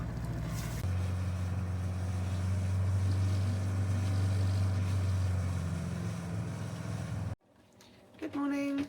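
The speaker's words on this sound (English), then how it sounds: "Just testing the engine for any smoke coming out the exhaust there" A sailboat's inboard engine runs steadily and loudly for about seven seconds under constant wind-like rumble, then cuts abruptly to near quiet, followed by a brief faint mechanical rattle.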